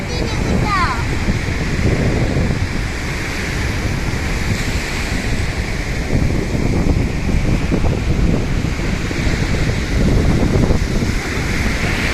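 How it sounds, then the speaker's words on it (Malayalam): Sea waves break on a shore in a steady, loud, continuous roar, with wind buffeting the microphone throughout. "അത് കടലിൽ നിന്ന് വരുന്ന തിരമാല."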